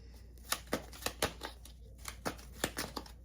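Tarot cards riffled and shuffled by hand in a quiet room, a run of crisp papery snaps and flutters coming in quick irregular bursts, close and fairly soft.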